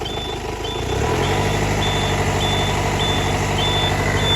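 A newly delivered heavy truck runs its engine, rising from idle to a stronger, steady rumble while a reversing alarm beeps at a regular pulse over the top.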